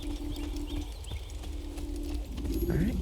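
Horse hooves clop steadily in the Assassin's Creed video game, a moderate rhythmic trot under a game soundtrack with faint bird-like cooing.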